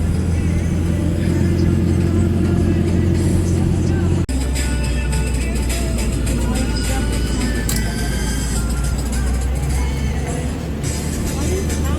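A vehicle drives along a mountain road toward Kaza in Himachal Pradesh, its engine holding a steady loud drone with road rumble throughout.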